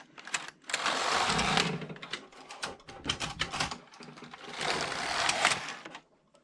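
A Passap E6000 knitting machine carriage slides back and forth across the needle bed knitting rows of a sweater, two long rasping whirring passes separated by shorter clattering strokes, close and moderately loud with no voices.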